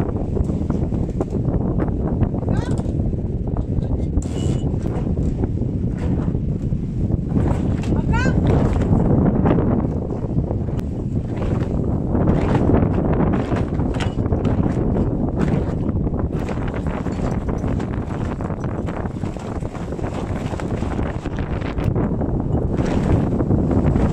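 Strong wind buffets the microphone in a steady roar, with rushing water and sea noise aboard a sailboat on a transatlantic crossing under intermittent voices.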